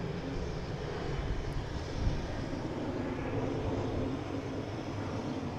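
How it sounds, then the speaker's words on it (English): Boeing 737 inbound from Nashville pulling up into a go-around, a steady broad engine roar at moderate distance holding evenly throughout with no voices. "Oh, we had a go around. It's coming from Nashville, 737."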